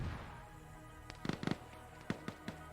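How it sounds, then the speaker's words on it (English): Distant rocket fire and explosions in a military video game, heard as a faint cluster of sharp cracks and pops followed by a few scattered bursts at low level. "Heard a rocket go off."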